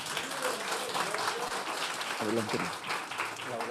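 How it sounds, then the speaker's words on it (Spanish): A congregation at a Spanish-language Sunday church service claps steadily for the Lord, a moderate wash of hands beneath a few spoken words. "Un aplauso al Señor, hermanos"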